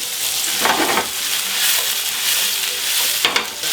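Mushrooms sweat in olive oil in a pan heated to 150 °C, giving a loud, steady sizzle, with occasional scraping swells from stirring.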